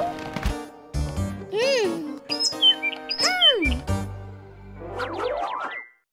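Cartoon bird chirps and tweets, several rising and falling whistled calls scattered across a busy animated scene with music and effects, ending in a quick run of ascending chirps.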